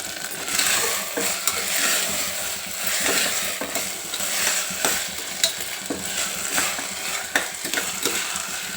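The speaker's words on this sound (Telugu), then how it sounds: "కొంచెము టమాటాల కొంచెం బియ్యము ఫ్రై కానియాలి" Tomatoes and rice fry in a pan while being stirred, a continuous close sizzle punctuated by repeated scraping and clinks of a utensil against the pan, with no talking.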